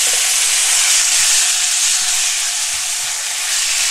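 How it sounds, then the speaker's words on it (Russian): Meat sizzles loudly in well-heated oil in a frying pan while being stirred, a dense, steady hiss that fills the whole moment up close, with no speech. "Обжариваем мясо буквально 2 минуты"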